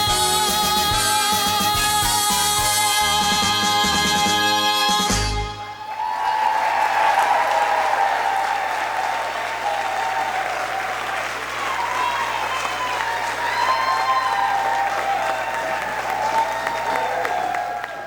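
A theatre audience cheers and applauds after a show-stopping dance number at a Divas 2019 show, a loud, dense wash of clapping and whooping that runs continuously, following a loud musical ending that cuts off abruptly.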